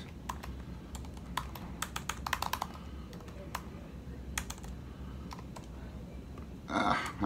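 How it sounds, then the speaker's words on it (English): Irregular bursts of keyboard typing, quick clusters of key clicks with pauses between, over a low background hum. "Having trouble typing this morning."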